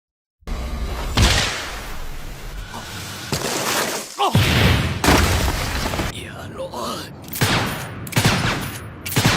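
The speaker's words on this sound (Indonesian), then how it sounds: "Lantas Adonis menghujani Shirosagi dengan tembakan." Rapid bursts of anime gunfire crack and boom in a dense, loud barrage, with whooshing impacts between volleys.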